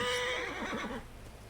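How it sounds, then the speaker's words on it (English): A horse in Assassin's Creed Origins lets out one loud, close whinny that wavers and fades within about a second, with no talk over it. "take this horse to the stable and, like, register it"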